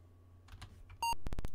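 A short electronic beep from the 1980 Apple II game Doom Cavern, a clean single tone followed by a few quick harsh clicks, loud after a near-silent start.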